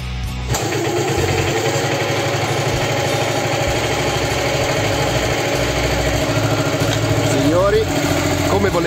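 A restored 1954 Ducati motorcycle engine catches after a brief moment and settles into a loud, steady, throbbing run that continues close by with a dense mechanical rattle.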